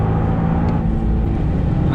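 Toyota GR Yaris 2020 with 250 hp and four-wheel drive, its engine droning steadily at mid revs from inside the cabin, a continuous brief hum without speech.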